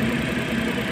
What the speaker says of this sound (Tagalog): nakita natin na andar ng makina, yung ganda-ganda ng tunog ng makina